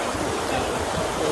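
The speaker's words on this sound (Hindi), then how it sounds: "पानी की रफ्तार देखें कितनी तेज हो रही है।" Fast cold river water rushing past in a dense, continuous, loud roar close by, with no clear speech over it.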